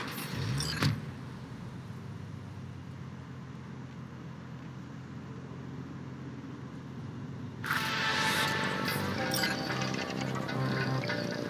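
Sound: car driving in the video game Cyberpunk

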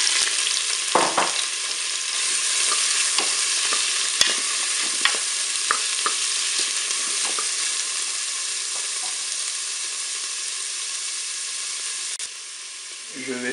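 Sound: shrimp frying in hot olive oil in a Cookeo

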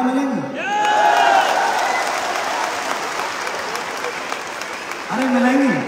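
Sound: audience applause

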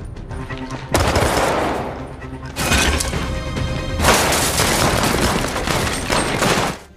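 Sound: gunfight in the film Gemini Man

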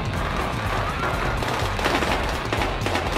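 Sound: gunfire in the video game Battlefield Hardline

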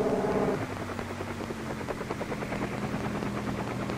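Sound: helicopter flying

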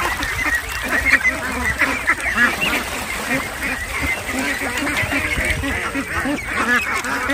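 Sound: farm ducks quacking

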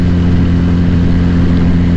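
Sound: Regal Raptor 350cc two-cylinder cruiser motorcycle engine

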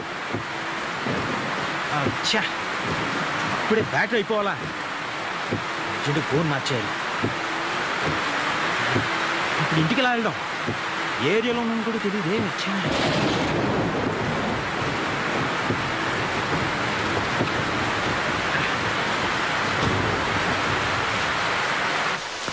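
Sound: rain and thunderstorm

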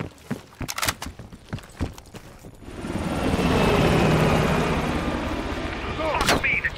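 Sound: helicopter flying away in Call of Duty Cold War, video game

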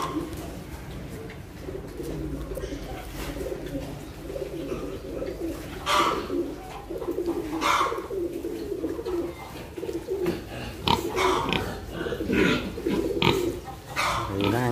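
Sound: pigs on a pig farm

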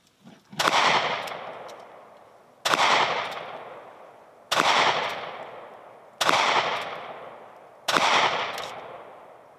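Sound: 22 Magnum North American Arms Pug revolver shots, 18 yards

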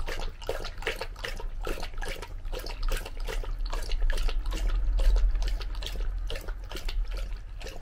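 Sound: running water

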